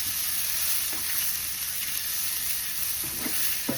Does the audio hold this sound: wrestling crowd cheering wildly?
no